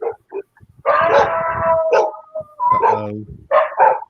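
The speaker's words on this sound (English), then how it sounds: "You just stirred up somebody's dogs." Dogs across the street at an old building entrance in Saipan bark and howl in a loud, close run of yelps and drawn-out howls, with a brief spoken exclamation between them.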